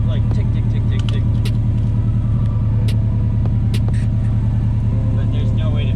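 A Subaru WRX with a new Tomei titanium exhaust idles steadily nearby, a low, even rumble with a rhythmic throb and a few faint ticks over it, holding constant throughout.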